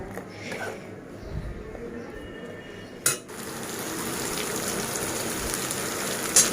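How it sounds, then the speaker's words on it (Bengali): Dal being tempered in a pan with panch phoron, garlic, onion and dried and green chillies, giving a steady broadband sizzle that swells and holds after a sharp crackle near the middle, with faint clatter around it. "তো চলো ডালটা ফোড়ন দিন"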